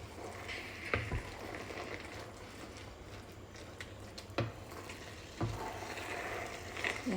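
Sliced aubergine fries in a pan with a soft steady sizzle, broken by several louder clunks and scrapes as a utensil stirs it, close and without talk.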